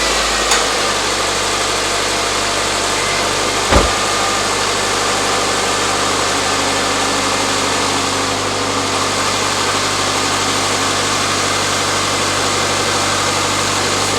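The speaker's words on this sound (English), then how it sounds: "we've got our new fully charged battery in, we're going to start the car up, and we're going to check the charge rate." A car engine starts and then idles steadily, loud and close, right after a freshly charged battery has been fitted, with a constant mechanical hum and a brief sharp transient near the start and no talking.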